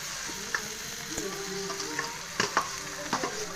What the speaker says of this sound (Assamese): আৰু এইখিনি অকণমান ভাজি ল'ম।